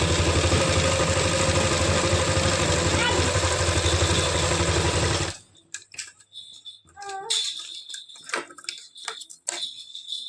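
A sewing machine hums steadily as it stitches the hem of palazzo pants, a close continuous whirr that stops abruptly midway and leaves only light handling noises.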